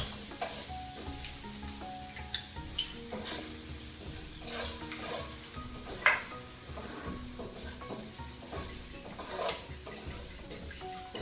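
Eggs and rice stirred in a frying pan, a soft steady sizzle broken by scraping and light ticking utensil taps, with one sharper clink near the middle, close and quiet.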